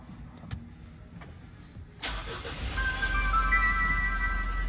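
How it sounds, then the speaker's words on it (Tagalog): A Mitsubishi Montero Sport's 4N15 diesel engine cranks and catches after a couple of faint clicks, then settles into a steady, rising idle rumble with a faint high whine above it. "Engine start."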